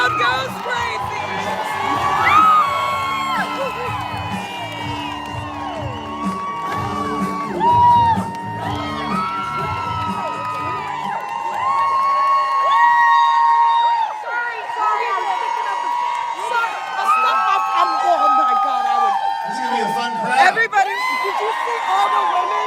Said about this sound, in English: Everyone's and the crowd goes crazy.